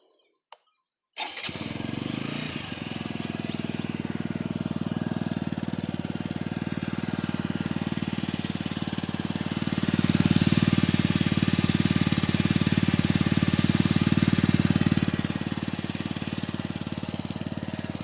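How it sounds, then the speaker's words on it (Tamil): A TVS Apache RTR 200 4V BS6 motorcycle engine starts and runs steadily at idle, loud and close, with the rumble swelling for a few seconds partway through before settling back. "இந்த வண்டியோட சவுண்ட் எப்படி இருக்குன்னு பாருங்கள்"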